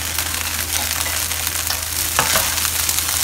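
Prawns with spring onion fry in a hot pan for shrimp fried rice, giving a steady, close sizzle with light stirring scrapes throughout and a brief louder clatter near the end.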